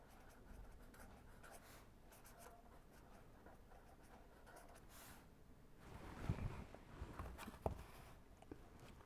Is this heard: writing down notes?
yes